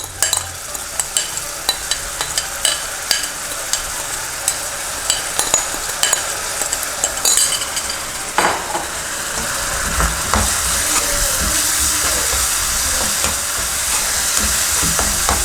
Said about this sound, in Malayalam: ഇനി നമ്മൾ നേരത്തെ തയ്യാറാക്കി വെച്ച ആ സോസിൻ്റെ മിക്സ് അത് നമുക്കിതിലേക്ക് ഒഴിച്ചു കൊടുക്കാം.